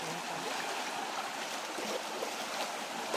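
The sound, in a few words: waterfall rushing water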